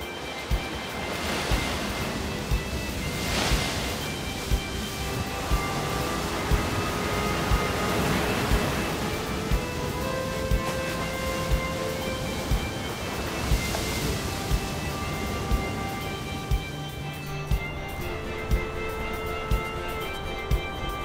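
Ocean waves break on the surfing beach at Saint-Jean-de-Luz, a loud, continuous roar of surf that swells and recedes in repeated surges, with wind buffeting the microphone and no talking.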